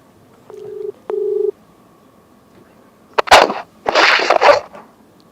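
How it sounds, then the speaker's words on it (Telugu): An outgoing phone call gives two short ringback tones in succession, clear and close, followed by a couple of sharp clattering bursts of handling noise. "రింగ్ అవుతుంది."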